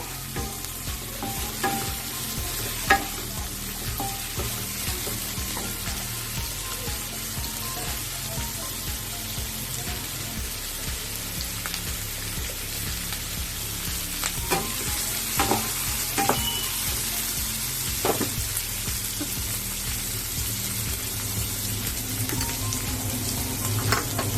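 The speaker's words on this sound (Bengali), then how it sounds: "এখন আমরা হাই ফ্লেমে দিয়ে দেব, দিয়ে এটাকে নাড়াচাড়া করব" Egg chilli stirred in a pan over a high flame, loud constant sizzling with rapid repeated spatula scrapes and knocks throughout, near and unbroken by speech.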